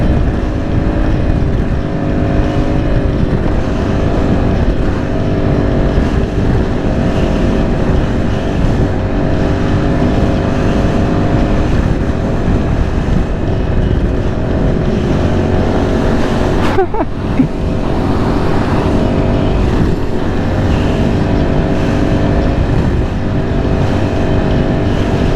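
A new Yamaha R7 motorcycle on its first ride, its engine droning loud and close with steady revving and a rising pitch, mixed with wind rush throughout and a brief sharp shift near the end.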